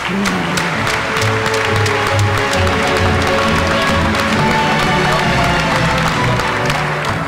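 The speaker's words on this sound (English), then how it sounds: "Let's have another great round of applause for all our winners." A crowd at a corporate show applauds award winners with loud, dense clapping and some cheering, while upbeat music with a steady beat plays underneath throughout.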